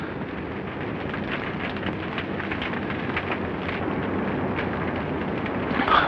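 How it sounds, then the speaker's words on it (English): A grenade explosion in a 1940s war film, heard as a dense, rumbling roar of blast and debris that fills the whole stretch at a steady level and swells slightly toward the end, with no voices. "Grenade."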